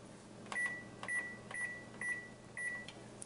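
Five short, evenly spaced electronic beeps from a kitchen timer being set during stovetop cooking, clear and close over a quiet kitchen hum.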